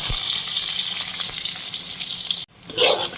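Onions hit hot oil after popping mustard seeds, a steady close frying crackle that cuts off abruptly, then resumes as a brief louder hiss.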